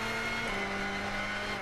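Race car in Gran Turismo 6 accelerating hard in first gear, a steady high engine whine climbing in pitch over under two seconds, loud and alone.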